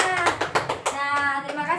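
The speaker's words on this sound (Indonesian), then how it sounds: "kita beri tepuk tangan buat Rama." Children clap in an elementary classroom, a quick burst of overlapping hand claps, close and fairly loud, with young voices mixed in.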